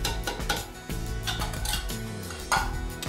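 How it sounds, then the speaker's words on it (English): A spoon scrapes and clinks around a bowl of beans, tomatoes and corn, with repeated close metallic knocks and a steady rhythm of stirring and no talking. "we're going to stir everything together"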